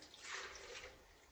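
A short splash of water being poured into a container while making New Mexico red chile from dehydrated pods, a steady liquid rush lasting about a second before tapering off.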